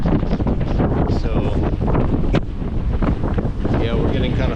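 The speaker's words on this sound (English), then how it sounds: "we're getting 40 knot gusts and above, maybe even 50 at times" Strong wind gusts of 40 to 50 knots roar continuously across a sailboat at sea, buffeting the microphone in a loud, unbroken rush with surging peaks.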